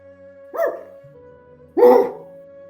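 A dog gives two muffled barks about a second apart, each a short rising yelp over a steady low background tone.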